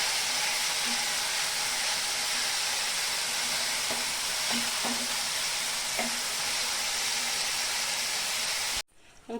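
Ground spice masala of turmeric, cumin, coriander and Kashmiri chilli powder frying in a pan, a loud, dense, steady hiss with a few soft stirring knocks, cutting off abruptly near the end.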